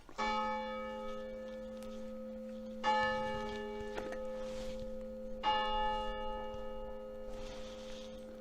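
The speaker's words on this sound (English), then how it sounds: "Enjoyed that little church chiming bells." A small village church bell in Hertfordshire strikes three times at steady intervals of about two and a half seconds, each ringing tone decaying slowly between strikes, heard alone with light background hiss.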